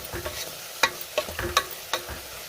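Turmeric, dry chili powder and salt are stirred in a pan, making a quick run of scraping clinks and soft sizzles over about two and a half seconds.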